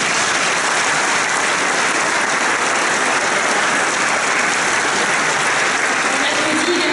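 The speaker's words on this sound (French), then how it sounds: "je voulais qu'on les applaudisse également très fort." A large audience at an opening plenary session applauds loudly and steadily, a dense continuous wash of many hands clapping close and full, with no pause for the whole stretch.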